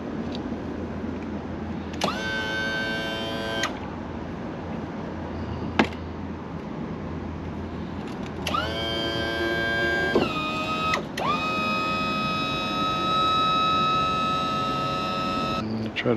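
Electric power trim motor on a Suzuki DF115 four-stroke outboard whines in several short bursts, starting and stopping with a strained hum, close and fairly loud over a quiet workshop background.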